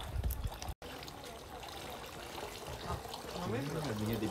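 Water runs steadily from a spout at a temple in Nara, a continuous trickling splash close by with a brief dropout early on, and a voice joins toward the end.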